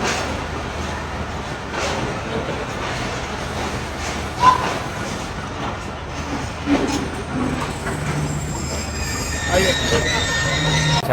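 A train at Rawalpindi railway station rumbles and screeches, with wheel squeal and rail clatter over a busy platform ambience while someone talks now and then.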